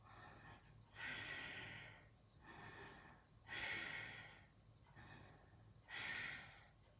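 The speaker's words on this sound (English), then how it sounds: "It's a breath that you take in and out through your nose with a slight constriction in your back that makes your breath audible" Ujjayi breathing drawn in and out through the nose with a constricted throat, three slow, soft, hissing ocean-like breaths at a steady rhythm, close and quiet with no talking.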